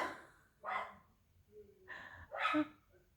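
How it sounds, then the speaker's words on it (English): A dog indoors barks at people outside, giving a few faint, distant barks separated by quiet pauses. "I hear my dog is barking."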